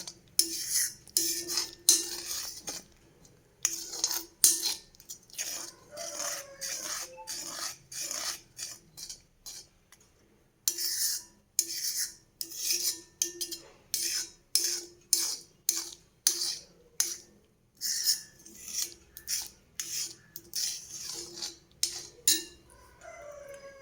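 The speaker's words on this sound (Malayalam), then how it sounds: "നന്നായിട്ടൊന്ന് ഇളക്കി കൊടുക്കാം." A spoon stirring coconut milk halwa with ghee in a metal pan, repeated close scraping and clinking strokes in quick bursts, one brief pause midway, no voices.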